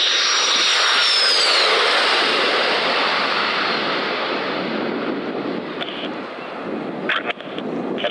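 Light aircraft engine at about 2,000 feet in old footage, a loud steady broadband drone with wind rush that holds for the whole stretch, thinning slightly near the end.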